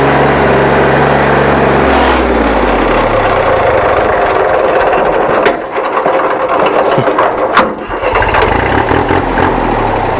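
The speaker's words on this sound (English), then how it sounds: "you feather the gas pedal as you let out the clutch, and we're going to go backwards" A Kubota L225 tractor's engine runs loud and steady close by as it drives in reverse, with the pitch shifting early on and brief knocks and rattles midway.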